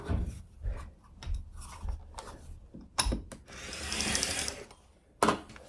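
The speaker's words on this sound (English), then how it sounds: "I love the sound of the rotary cutter cutting." Rotary cutter slicing through quilting fabric on a cutting board, quick scraping rolls and soft thumps with a longer hissing cut near the end, close and fairly quiet.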